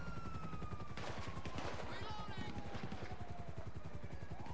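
Rapid gunfire in a GTA 5 Online desert shootout, a steady stream mixed with engine noise and rushing sound effects, fairly faint overall.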